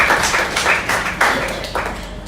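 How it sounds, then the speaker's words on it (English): Lecture audience applauding together, a steady wash of clapping that swells and dips in uneven bursts, fairly close and full, with no talk over it. "A round of applause for yourselves."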